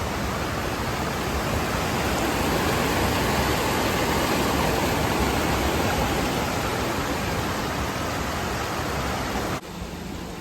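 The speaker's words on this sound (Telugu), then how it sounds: "ఇది మా ఊరిది వాగు అలిగెళ్తుంది చూడండి రోడ్డు పైనుంచి టూ మచ్గా వెళ్తున్నాయి" A village stream in flood rushes over a road near a waterfall, a loud, continuous roar of churning water that stays steady close by throughout.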